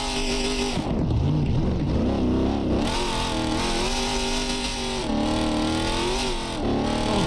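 A 1000 hp Camaro ZL1 1LE roars loudly in BeamNG.Drive, its engine revving hard and continuously with pitch sweeps rising and falling as the car struggles for traction, no talk over it.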